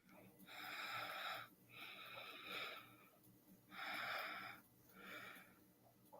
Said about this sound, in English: Sounds like somebody's breathing heavy.